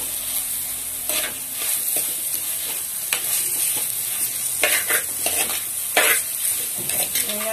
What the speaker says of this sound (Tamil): இப்போ வெட்டி வச்சுருக்க இந்த வெங்காயத்தையும் போட்டு இதோட நல்லா வதக்கிக்கப்போம்.